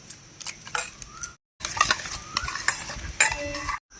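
Beaten eggs mixed with spices are whisked briskly in a bowl, producing rapid close scraping and clinking strokes in two bursts separated by a brief silent pause.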